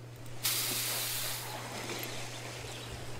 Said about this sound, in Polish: Smażymy ryby.